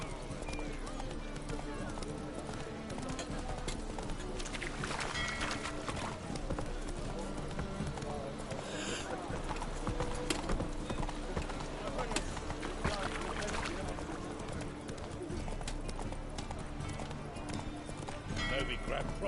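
Roach the horse galloping in The Witcher 3, rhythmic hoof clip-clops running steadily over a busy game soundscape, with a person talking over it.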